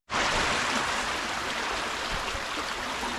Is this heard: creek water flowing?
yes